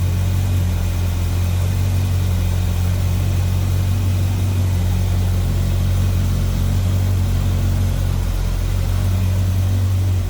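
A 1969 Chevrolet El Camino with HEI ignition idles steadily and smoothly, a loud, constant low engine rumble with no breaks throughout.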